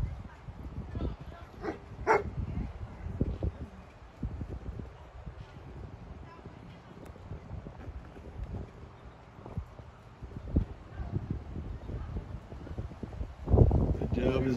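Chained-up farm dogs kept to guard goats bark in repeated, uneven bursts with a few yips and whimpers, while someone talks over them throughout.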